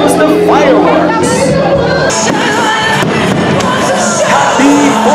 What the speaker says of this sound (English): And here comes the fireworks!